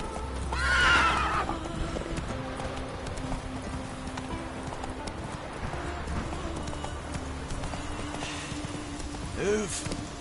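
Roach the horse in The Witcher 3 gives a loud whinny near the start and another later, with steady hoof clip-clops running underneath and someone talking over parts of it.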